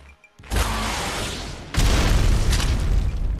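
Rocket launcher rocket in the video game ARK hitting a stone wall, a loud launch whoosh followed by a heavy booming blast that rolls on with a rumbling tail.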